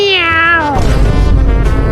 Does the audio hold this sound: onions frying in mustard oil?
no